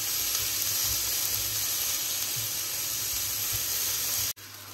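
Chopped onions and tomatoes fry in a pan for baingan bharta, making a steady, loud, close sizzle and hiss throughout that cuts off abruptly near the end.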